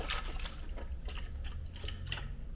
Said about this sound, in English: You hear the water? I filled it to the rim too